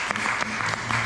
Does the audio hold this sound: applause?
yes